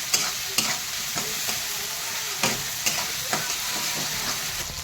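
Spice paste with tomato fries in a pan for a fish-bone curry, a constant close sizzle broken by regular scraping stirs of a spatula, with no voices.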